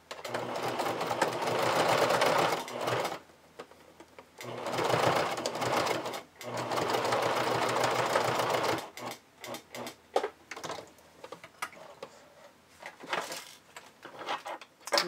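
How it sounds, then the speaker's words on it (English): A sewing machine stitches a bra closure with repeated back tacks, running in long loud bursts that stop and restart, followed by a series of short choppy stitching runs close by. "I'm going to do lots of back tacks at the beginning and end"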